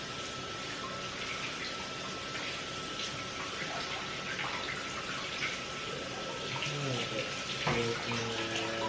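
Water runs steadily from a tap into a kitchen sink during cleaning, a continuous close splashing flow with occasional clinks and knocks toward the end.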